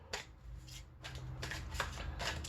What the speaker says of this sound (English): I'm just giving them another little shuffle.